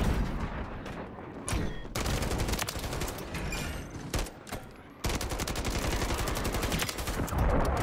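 Gunfire in Modern Warfare 3 with an SVA 545 loadout, dense bursts of rapid automatic shots, a brief lull near the middle, then more sustained fire to the end.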